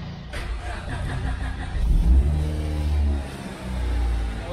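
A car engine fires up after a jump start from another car with a dead battery, turning over and then revving in a few rising surges, close and fairly loud.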